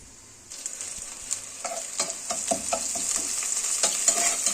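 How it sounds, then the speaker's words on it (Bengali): Onion frying in hot oil with cardamom and cinnamon in a wok, a steady sizzle that swells after a quiet start, with scattered spatula scrapes and stirring clicks close by. "আমি চুলায় কড়াইতে তেল বসিয়ে দিয়েছিলাম। তেলের সাথে দিয়েছিলাম এলাচি, দারচিনি। কিছুক্ষণ গরম হওয়ার পরে দিয়ে দেবো পেঁয়াজ"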